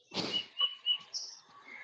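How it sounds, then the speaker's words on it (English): A loud bird calls outside with a series of bright, piercing chirps and whistles, fairly close. A short rough burst of noise comes just before the calls. "You got a loud bird out there too."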